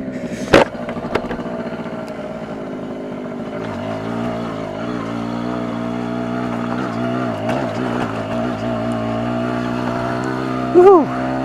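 A 1979 Yamaha FS1 50cc moped runs steadily under a rider, its small two-stroke engine buzzing with a constant droning tone that rises and falls slightly with throttle, with a brief bump of wind or handling noise near the end.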